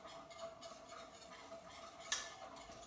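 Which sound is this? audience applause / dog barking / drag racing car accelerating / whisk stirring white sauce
whisk stirring white sauce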